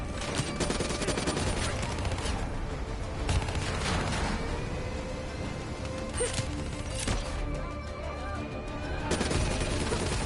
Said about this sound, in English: Hit them with the swarm launcher!